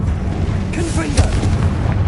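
A Confringo blasting curse from Hogwarts Legacy bursts in a short booming explosion with a crackling, sparkling tail, set against a low rumbling game background.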